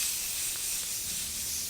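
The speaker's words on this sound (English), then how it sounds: "I do want to go in with a little bit, though, of spray." Morphe setting spray misted onto a face in one steady, close hiss that holds evenly for nearly two seconds, then cuts off.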